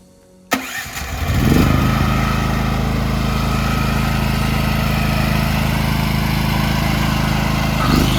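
A Fisker FSGG5560CE 6 kW portable petrol generator starts abruptly and settles into a loud, steady mechanical running drone that continues without pause.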